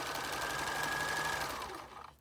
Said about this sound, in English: I just prefer doing this on the sewing machine